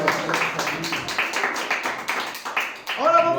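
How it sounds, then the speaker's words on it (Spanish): A church congregation claps for the Lord, scattered hand claps in an uneven rhythm while voices ring out over them, with a sung or spoken tone rising near the end. "¿Cuántos le dan un aplauso al Señor?"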